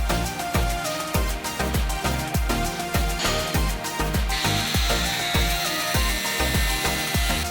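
A metal fitting piece being cut for a VW Golf 2 G60 engine bay, a loud steady rhythmic rasping stroke repeating about twice a second, close and continuous with a higher hiss joining partway through.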